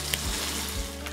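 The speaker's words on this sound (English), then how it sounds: "I'm gonna fry all this bacon up" Bacon strips frying in a pan for a homemade Outback Steakhouse Alice Springs chicken knockoff, a steady close sizzle with faint crackles and no talk.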